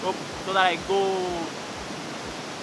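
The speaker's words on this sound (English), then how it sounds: "I am having a tough time concentrating because of the noise from the waterfall" A waterfall roars outdoors as a steady, loud, even rush of water noise, with a person talking briefly over it near the start.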